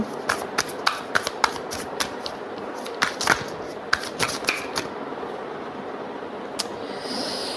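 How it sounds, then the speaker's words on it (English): Tarot cards being shuffled in quick, irregular riffling bursts, close and fairly quiet, with no talking. "So many cards. So many times I shuffle"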